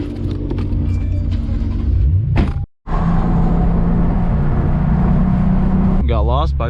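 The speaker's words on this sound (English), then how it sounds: "Everybody's car is so loud." Loud cars at a busy car meet produce a continuous, close engine rumble and drone. A brief cut interrupts it, and a rising, wavering whine enters near the end.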